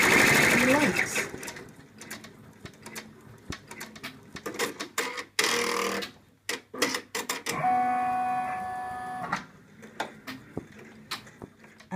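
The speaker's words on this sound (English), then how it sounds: "It's now stitching out the placement line for the ears and the arms and the legs." A home embroidery machine stitches a placement line for an in-the-hoop elephant, running in quick mechanical bursts of clatter and rhythmic ticking with brief pauses and a steadier whirring stretch, close by, with a voice talking over it.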